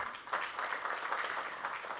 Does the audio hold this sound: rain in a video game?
no